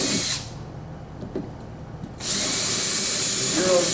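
Power drill boring holes with a 5mm bit for Euro screws while installing a sliding door, loud whirring bursts at start and end with a quieter pause between.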